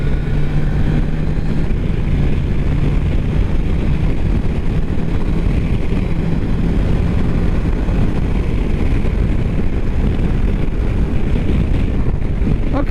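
A 2022 Triumph Tiger Sport 660 motorcycle cruises at highway speed around 80 mph, with a loud, constant roar of wind buffeting over a low engine drone, steady throughout with no speech.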